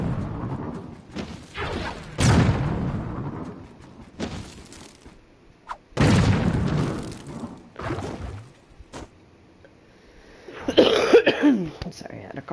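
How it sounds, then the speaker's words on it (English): A person coughs in several harsh bursts with pauses between them, then clears the throat, loud and close, with a brief swishing rustle near the end. "I'm sorry, I had a cough."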